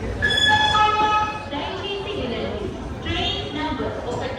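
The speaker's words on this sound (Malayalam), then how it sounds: "റേണിഗുണ്ട ജംഗ്ഷൻ റെയിൽവേ സ്റ്റേഷനിലേക്ക് ഇതാ നമ്മുടെ ട്രെയിൻ എത്തിക്കൊണ്ടിരിക്കുകയാണ്" An express train pulls into Renigunta Junction station on platform 2, a loud rumbling roll with high squealing wheel or brake tones early on, continuing as a steady platform-level clatter while people talk nearby.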